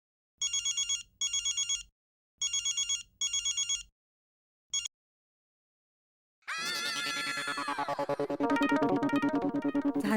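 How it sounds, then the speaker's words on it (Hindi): A mobile phone ringtone rings in repeated short electronic bursts, loud and close, then stops; after a pause, a fuller musical tune swells in and plays on. "अब भाई साहब किसी का फोन बज रहा है आप में से, क्योंकि ये रिंगटोन ना बहुत जानी पहचानी लग रही है"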